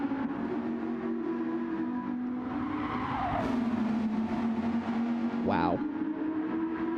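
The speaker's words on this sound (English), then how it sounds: "you can hear the cars echoing off the environment" Race cars in the Gran Turismo game roaring past on a circuit, a steady sustained engine drone that echoes off the surroundings, with a shifting pitch sweep and a brief tire squeal near the end.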